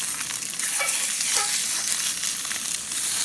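Fish fillets fry in a pan with a steady, loud broadband sizzle that runs unbroken throughout, with a few brief crackles and scraping stirs on top and no talking.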